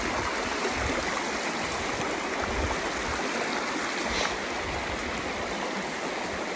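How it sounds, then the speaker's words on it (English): Creek water rushes and burbles steadily in a broad, even wash of sound, close and continuous with no voices, a constant outdoor flow from a stream with pools. "That's a beautiful creek."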